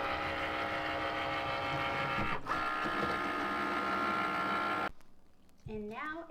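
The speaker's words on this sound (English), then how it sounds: "I'm going to use the Cricut pen, close this, and then I'm going to go ahead and hit the Cricut button." A Cricut cutting machine drawing with its pen while making a wedding card, giving a steady mechanical whir with a brief knock in the middle, then a quieter stretch with short motor movements near the end.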